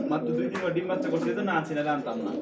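Domestic pigeons in a cage, a soft cooing under and between close men's conversation, brief and fairly quiet.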